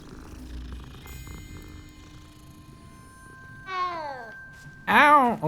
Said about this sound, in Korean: 왜 그 고양이가 많아?